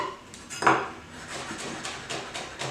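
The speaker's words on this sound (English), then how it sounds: "take your peeled garlic, knife on top like this, give it a good smash" A chef's knife comes down on peeled garlic on a cutting board, one firm smash followed by a series of lighter, quick chopping taps, close and fairly quiet.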